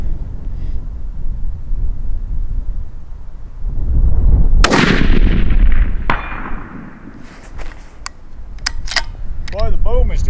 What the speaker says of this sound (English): the boom is just about as loud as the steel plate getting hit is just about as loud as the gun.